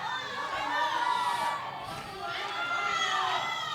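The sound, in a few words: Puerto Rican crowd cheering at powerlifting championship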